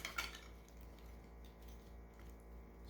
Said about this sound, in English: gonna use a spoon to mix this all together